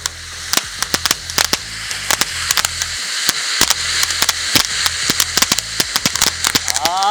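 A red and green colour shower firework set off for Diwali, firing a loud, close run of sharp pops and crackling bursts in irregular quick succession, with voices in the background.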